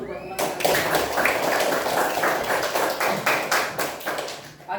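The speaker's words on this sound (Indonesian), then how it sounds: "Tepuk tangan dulu buat teman kita." A class of students claps for a classmate who has answered a question, steady rhythmic applause in a classroom lasting several seconds, with a teacher's voice briefly heard.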